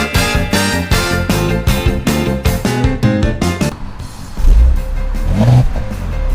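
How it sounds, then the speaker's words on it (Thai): Loud rhythmic music plays, then cuts away to a nearby car engine rumbling and revving up in a couple of rising surges. "ฟังเสียงเครื่องยนต์นี่สิคะ"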